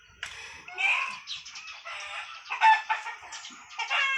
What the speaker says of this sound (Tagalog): meron tayong background na manok